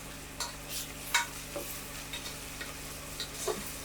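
Ginger-mint paste sautéing in a pan for Bhai-style chicken biryani: a low, even sizzle under repeated scraping and clinking strokes of a ladle, close and with no speech.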